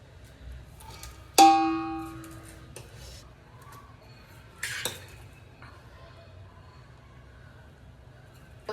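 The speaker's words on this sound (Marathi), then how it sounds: "आता ह्याच्यावर मी भात टाकते. हा उकडून घेतलेला राईस आहे. हा टाकूया ह्याच्यावर." Cooked, pre-boiled rice going into a pot for layered biryani: a sharp metallic clank of a spoon against the pot, then softer scraping and clinks, with another clatter midway, in a quiet kitchen without talk.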